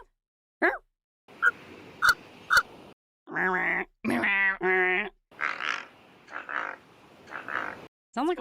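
A large bird gives a series of odd grunting, snuffling calls with pig-like and puppy-like tones, heard in separate bursts with short pauses between them, fairly close and with no clear talking.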